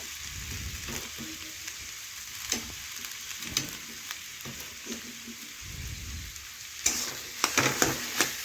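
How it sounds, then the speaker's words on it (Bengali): Boiled, hand-mashed potatoes for a crispy pointed gourd chop filling are stir-fried in a pan, a continuous soft sizzle with repeated scraping strokes of the spatula that grow busier toward the end. "এখন আলু ভালোভাবে নাড়াচাড়া করে একটু কষে নেব।"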